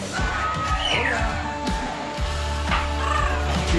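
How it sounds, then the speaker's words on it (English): Harsh, squawky parrot calls rise and fall repeatedly over a busy background on a jungle trek in Colombia, with a few sharper screeches standing out near the end. "there's parrots. Hey, look."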